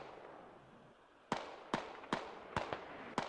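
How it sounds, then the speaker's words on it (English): Mortar explosions in the tactical shooter Squad: five sharp, booming impacts land in quick succession after a quiet stretch, each a sudden crack with a short rumbling tail, fairly close and irregularly spaced. "Oh, mortars are actually pretty close."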